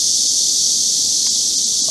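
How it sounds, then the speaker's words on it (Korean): Cicadas drone loudly and without a break at a summer campsite, a dense high-pitched buzz that fills the whole stretch with no talking. "일단 매미가 더럽게 시끄럽다."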